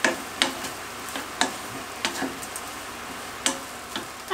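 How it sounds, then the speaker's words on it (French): Proteins brown in a wok with garlic and onion, a soft sizzle broken by sharp, irregular clicks of a utensil stirring and tapping the pan, close and clear. "on ajoute les protéines et on les fait aussi un tout petit peu dorer"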